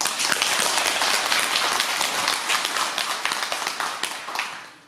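A crowd applauds at a Buddhist temple's third-anniversary dharma service, with dense, steady clapping that fills the hall before slowly thinning and fading out at the end.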